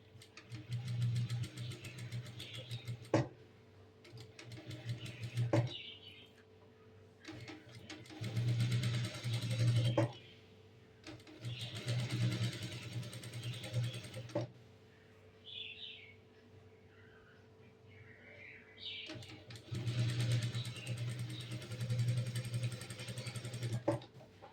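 Sewing machine stitching the neckline of a long umbrella-style churidar, running in several sustained bursts of steady mechanical whirring separated by brief pauses, fairly close and alone with no talk.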